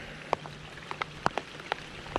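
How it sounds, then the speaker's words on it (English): Scattered raindrops hit the surface of Lake Conroe in Texas around a fishing kayak, falling as sparse, separate close taps and plinks over a faint background hiss. "Here comes the rain."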